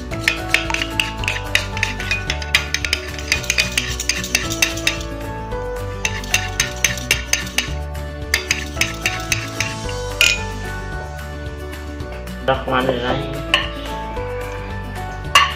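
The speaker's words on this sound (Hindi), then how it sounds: "इसको हमने थोड़ा ना मिक्स कर लेना ताकि इसकी ना थिकनेस जो है ना वो अच्छी हो जाए" A spoon scrapes and taps steadily against a bowl while a dahi mixture is stirred to thicken it, a close, rhythmic clinking and rubbing that pauses and resumes, with no voices.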